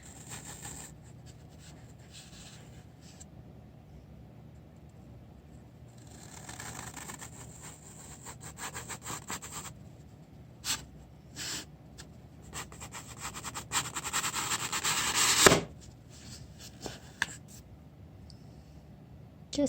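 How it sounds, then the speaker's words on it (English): Foam being sliced with a knife during a craft project, heard as quiet scraping and rubbing strokes that build to a louder burst of tearing friction near the end, close up and without talk. "I'm just gonna cut it with a knife."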